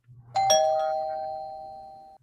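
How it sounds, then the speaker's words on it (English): A doorbell rings once indoors with a clear two-tone chime that rings on and fades slowly over about two seconds. "There's the bell, sir."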